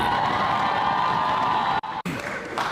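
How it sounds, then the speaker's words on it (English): A crowd at the Yale Union bursts into loud, sustained applause and cheering for Hasan, with whoops rising over dense clapping and two brief cut-outs. "Hasan got some serious applause here at the"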